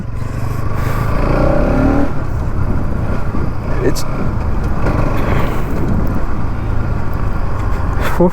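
A Bajaj Pulsar NS 200 motorcycle being ridden, its engine droning steadily with wind rush throughout, while someone talks over it.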